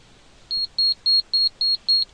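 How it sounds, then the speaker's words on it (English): A network switch's buzzer beeps during a diagnostic check, seven short high-pitched tones in an even, quick rhythm, loud and clear with nothing else audible. "the buzzer is playing the sound"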